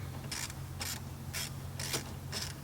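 A ratchet wrench turns out the last wiper motor bolt on a 1991 Ford Ranger. Five short bursts of crisp clicking come close up at an even pace, with a low steady hum underneath and no speech.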